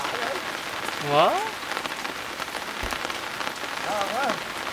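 Steady rain patters on a surface in a dense, even hiss throughout, close by, while people briefly exchange a few words in between.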